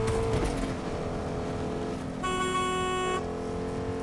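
Car driven in a PC shooter video game, a continuous engine drone with shifting tones, joined briefly by a tonal horn-like sound near the middle, with no talking.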